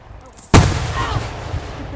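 A Fourth of July butterfly firework bursts with one sudden loud boom at close range, followed by a crackling, hissing tail that fades over a couple of seconds. A voice is faintly audible before the blast.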